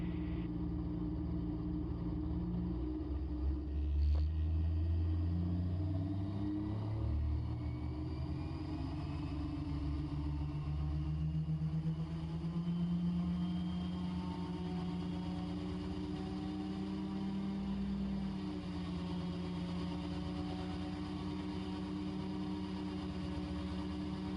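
A Raptor prototype aircraft engine running up on the ground, a steady droning hum that holds loud and continuous throughout with slight shifts in pitch and no voices.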